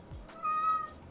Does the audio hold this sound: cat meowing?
yes